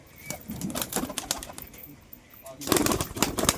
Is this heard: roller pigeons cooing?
yes